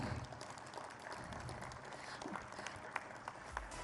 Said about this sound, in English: Ladies and gentlemen, a huge round of applause.